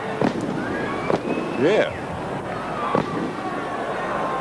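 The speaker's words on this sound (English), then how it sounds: "We have some fireworks outside the ground." Fireworks go off outside the ground during a 1988 VFL match between the Swans and Richmond, several sharp bangs and crackles with whistling trails, heard under a commentator's voice.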